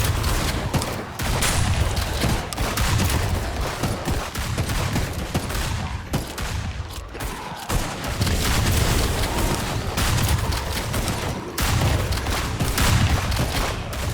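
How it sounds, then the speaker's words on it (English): Explosions and gunfire rage in HumanitZ during a faction war, a loud, continuous barrage of rapid shots and booming blasts with brief lulls, no voices over it. "Oh, stuff's exploding."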